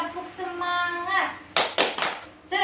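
Tepuk semangat, a rhythmic clapping routine in a learning session, comes in as a few sharp, close hand claps after a stretch of spoken voice, with a brief pause before a final clap.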